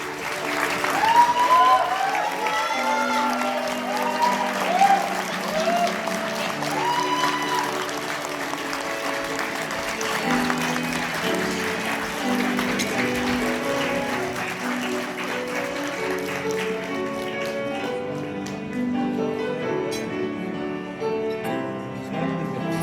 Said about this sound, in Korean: 내빈 여러분께서는 뜨거운 격려의 박수로 축하해 주시기 바랍니다